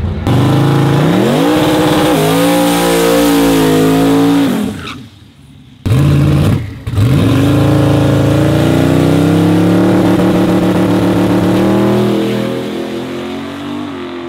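A drag truck's engine revs hard and loud, climbing and dropping in pitch in repeated pulls with a brief lull midway, close up and with no talking.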